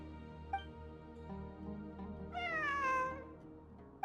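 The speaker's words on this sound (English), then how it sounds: "It really is a cat." A cat meows in the Genshin Impact video game: a short chirp near the start, then a longer, louder drawn-out meow in the middle and a brief chirp at the end, over a steady low background hum.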